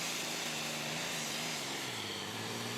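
An unlimited super stock pulling tractor runs at full throttle during a tractor pull event in Saluda, South Carolina. The engine holds a loud, steady, continuous roar with no voices over it.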